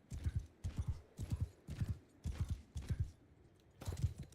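Horses of a charging army in a video game pound along in a run of rhythmic, thudding hoofbeat bursts, roughly two per second, with a short gap before a final heavy burst.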